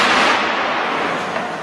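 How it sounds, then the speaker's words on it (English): A special-effects cafe explosion set off on a Paris street during a film shoot, heard as a loud, sustained broadband roar and crackle that fades only slightly over a couple of seconds, with no voices. "they shoot the cafe explosion."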